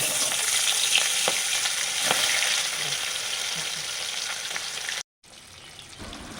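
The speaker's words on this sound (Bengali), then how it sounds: "এবার আমি একটা একটা করে মাছ কড়াতে দিয়ে দিচ্ছি।" Loud, steady sizzling of tilapia fish frying in hot oil in a kadai, close up, with faint clicks, then a momentary break before the sizzle resumes.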